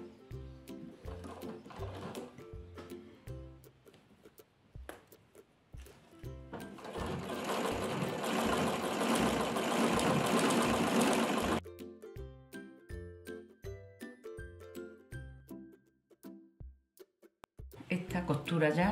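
A sewing machine stitches a dress seam, running in short bursts and then one long continuous buzzing run, close and clear, with someone talking in Spanish between the runs.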